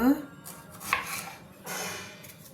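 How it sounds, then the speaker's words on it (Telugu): Knife chopping tomatoes on a board for chole masala gravy, a few close, irregular cuts and clinks of kitchenware with short pauses between strokes. "3 టమాటాలు గ్రేవీ కోసం కోసుకొని మిక్సీలో వేసుకుందాం"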